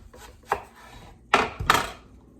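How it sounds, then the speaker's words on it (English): A knife cuts slices from a Vidalia onion on a cutting board: three or four close, crisp chopping thuds, one single stroke followed after a pause by a quick pair, with quiet in between. "I'm going to cut this Vidalia onion,"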